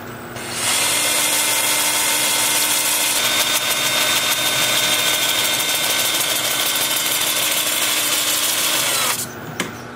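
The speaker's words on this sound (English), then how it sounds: "Then I'm going to switch to 80 grit 2-inch disc sander." A 2-inch disc sander with an 80 grit pad starts up and grinds against a wooden rhododendron root bowl with a steady, high whirring rasp for about eight seconds, then spins down.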